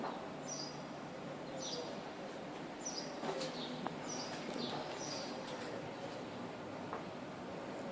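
Repeated short high-pitched gull calls from a seagull, about six cries spaced through the clip over a steady background hiss, moderately distant with a few faint clicks.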